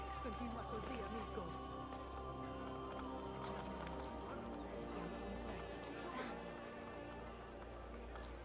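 Horse hooves clip-clopping in Assassin's Creed Brotherhood, steady quiet footfalls under game ambience and background chatter, with an occasional whinny mixed in.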